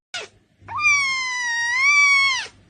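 A cat gives a short chirp, then after a brief pause one long, clear, drawn-out meow, loud and close with nothing else around it.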